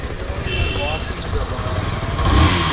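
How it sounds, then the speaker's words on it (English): A Hero XPulse 200 motorcycle engine runs close by with a steady, throaty exhaust rumble that rises slightly toward the end, with faint talk underneath. "the exhaust pretty sounds sweet. It's not like a much boom exhaust, but it's like a pretty okay exhaust sound."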